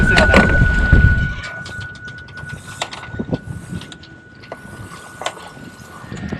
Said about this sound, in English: After quickly getting the mainsail down